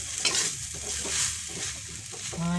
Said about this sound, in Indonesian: ini kita buat apinya besar, tapi harus selalu kita ongseng seperti ini supaya tidak gosong